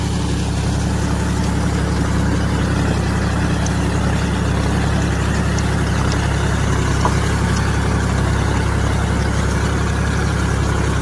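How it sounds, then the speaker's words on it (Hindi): A tractor pulling a rotavator tills a village field, its engine droning steadily and loudly throughout with an even rumbling hum and no talk. "इसी तरह ट्रैक्टर से रोटावेटर से जुताई चलता है एकदम पूरा मस्त"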